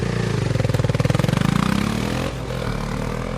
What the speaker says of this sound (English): A final test ride ensures the motorcycle is working properly.